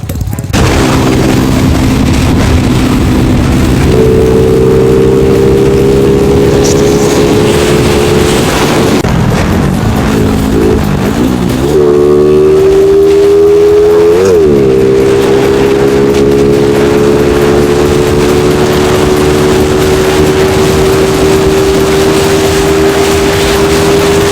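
A Honda Wave motorcycle with a stock muffler hums along on a ride, its engine note rising and dipping through gear changes under constant loud wind rush, with some talking mixed in.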